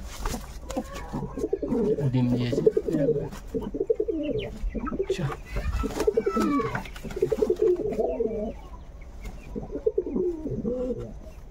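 Jacobin pigeons cooing in a loft, repeated low throaty coos from several birds in a steady rolling rhythm, close and clear.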